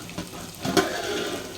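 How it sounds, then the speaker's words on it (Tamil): Water on a stove in a cooking pot coming to the boil, a short rushing, bubbling hiss that swells briefly in the middle and stays steady, fairly close, with no talk over it. "வாவ், தண்ணி நல்லா கொதிக்கிறாங்க"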